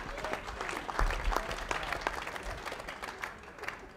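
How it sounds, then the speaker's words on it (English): At the men's final of a European bowling championship in San Marino, a crowd claps and cheers in steady, dense bursts, with sharp individual claps standing out and a few louder peaks, fairly close and lively. "The crowd here is getting crazy."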